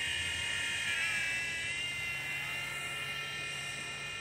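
Cray Z Sky Rover Liberator RC drone hovering nearby, a steady high-pitched whining buzz of small propellers holding at an even loudness throughout, with no talking.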